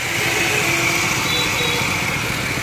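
A steady, loud high-pitched whine comes from a 670W angle grinder grinding, powered by a 320W solar panel and battery system mounted on a car, running continuously with no talking.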